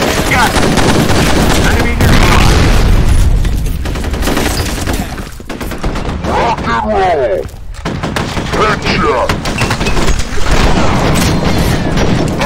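Loud close gunfire and explosive booms fill F.E.A.R. combat gameplay, with dense overlapping shots, a grenade blast and battle noise, while voices shout over the firefight.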